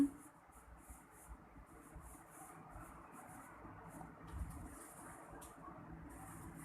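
Chalk or marker scratching across a board in short, repeated strokes with pauses, steady and close up, during an alphabet-and-numbers picture lesson; no voices.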